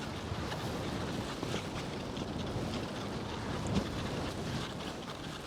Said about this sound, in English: The wind isn't terrible.